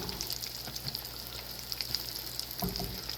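Fish fries in hot grease, giving a steady close crackling sizzle with scattered sharp pops throughout and a slightly louder flare of spattering near the end.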